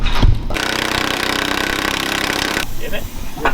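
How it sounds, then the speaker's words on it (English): Impact gun tightening leaf spring bolts on a big truck, one loud continuous rattling hammer burst lasting a couple of seconds, close up, preceded by a short clank. "I'll run the gun if you hold the wrench"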